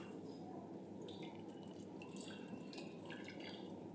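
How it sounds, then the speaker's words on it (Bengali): Coconut milk drips and trickles as freshly grated coconut is squeezed by hand, faint, irregular droplets landing close by in a quiet kitchen. "এইভাবে নারকেলের রসটা বার করে নেব।"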